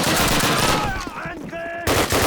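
Rapid gunfire in the World War II shooter Call of Duty, loud bursts of automatic and rifle shots with a sharp restart after a brief lull, mixed with game effects and no speech.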